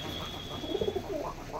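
Pigeons in a breeding loft give a few soft, low coos in a short run, faint and close, over a quiet background with a thin steady whine.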